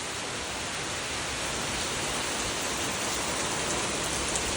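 Heavy rain pours steadily onto surfaces, a dense, unbroken roar of falling water with no pauses.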